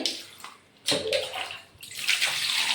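Water splashes and pours over cut pieces of jackfruit to rinse off the sticky sap, in close, uneven bursts of running and sloshing.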